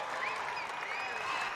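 A home crowd at a Hofstra basketball game cheers and claps after a senior-night victory, a broad wash of applause with whistles above it, steady and moderately distant.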